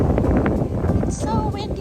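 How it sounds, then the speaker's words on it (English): Strong wind buffets the microphone during an afternoon walk on the Fourth of July, making a continuous loud, rough rumble that is mixed with close voices throughout. "It's so windy."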